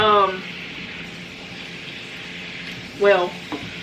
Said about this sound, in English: I'm gonna stir this around a little bit and let it go till